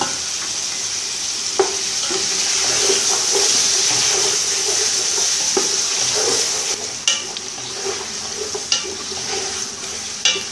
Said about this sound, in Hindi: थोड़ा सा अच्छा फ्राई करने के बाद अगर आप मसाले डालेंगे तो चिकन टूटेगी भी नहीं ज़्यादा जल्दी।